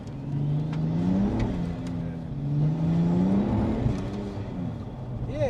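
A modified BMW 535D diesel car accelerates hard through the gears, its engine note rising and falling with each automatic upshift, loud and close from inside the cabin, with talking faintly in the background.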